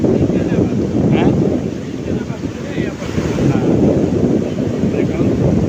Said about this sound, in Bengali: এবং ঢেউর যে একটা শব্দ